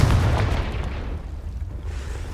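A loud, deep explosion from the Confringo fire spell in the Hogwarts Legacy video game, a heavy boom at the start rumbling and fading away over about two seconds.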